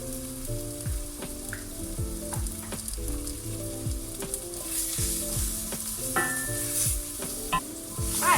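Turmeric and chili powder sizzle in a pan while being stirred, a steady close hiss with scraping strokes, heard under tonal background music.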